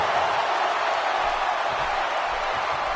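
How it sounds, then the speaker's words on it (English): A packed wrestling arena crowd in a WWE video game roars steadily during a Hell in a Cell extreme rules match, a dense, unbroken wash of cheering at a constant loud level. "by the sound of this crowd, I think they're getting what they wanted"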